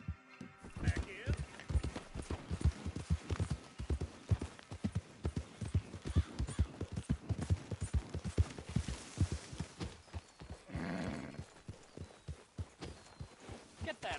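Steady, evenly paced hoof clops ring out close by in the video game Red Dead Redemption 2, a horse walking at a measured gait, with a brief rustling burst near the end.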